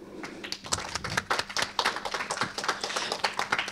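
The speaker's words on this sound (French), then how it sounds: "nous pouvons encore une fois les applaudir" Audience clapping at a live talk show event, a brisk scatter of sharp hand claps from a modest crowd, close and lively, lasting a few seconds without voices.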